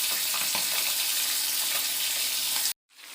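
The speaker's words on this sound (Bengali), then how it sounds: "তেলটা গরম হয়ে গেছে। আমি এবার মাছগুলো দিয়ে দেব।" Pabda fish fry in hot oil with a dense, loud, steady crackling sizzle that cuts off abruptly near the end and then faintly resumes.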